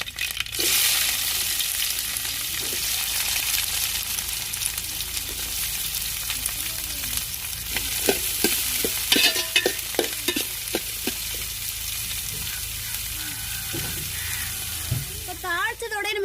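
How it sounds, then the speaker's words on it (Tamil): Mustard seeds, urad dal, curry leaves and chopped shallots crackle and sizzle in hot oil, a steady loud frying hiss with a run of sharp popping spatters midway and scraping stirs toward the end. "எண்ணெய் சூடாச்சுங்க கடு உளுந்து போட்டுக்கிறோம் ரெண்டு கருவேப்பிலை போட்டுக்கிறோம் வெட்டி வச்சு சின்ன வெங்காயத்தையும் சேர்த்துக்கிறோம்"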